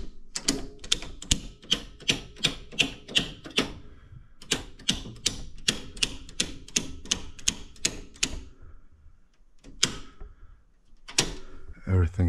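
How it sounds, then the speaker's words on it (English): An inlet switch and main breaker on an EcoFlow Delta Pro power setup click and clack in a rapid series of sharp mechanical snaps, close and distinct, with a few more after a short pause. "So, inlet off, main breaker on"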